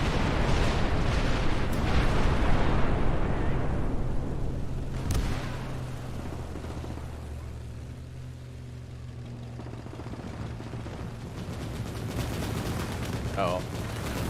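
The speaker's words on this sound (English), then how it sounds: "Oh, now the artillery's reloaded." Artillery fire and explosions from the WWII video game Gates of Hell, with heavy booming blasts and a dense, rumbling battlefield roar that stays loud throughout and eases slightly midway, with a voice talking over it.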